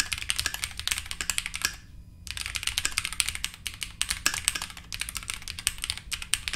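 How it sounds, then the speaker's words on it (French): Rapid, steady keystrokes on a KiiBOOM Phantom 81 transparent mechanical keyboard, close and clear, with a brief pause about a third of the way through before the typing resumes. No one speaks. "peu de texte pour tester le clavier"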